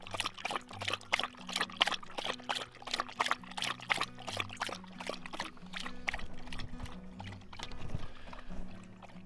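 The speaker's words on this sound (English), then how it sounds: "Get in there, get Katie girl some water." Water pours and trickles into a dish for a thirsty hunting dog outdoors on an early-season dove hunt, a steady splashing stream with low background hum and no talk over it.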